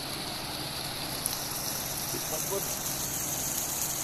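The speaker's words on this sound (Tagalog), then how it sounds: "Ibalik na po ng tubig sa dagat." Tsunami water rushing back out to the sea at Barangay Lipol on Balut Island, a steady broad wash of flowing water heard from a distance with faint voices underneath.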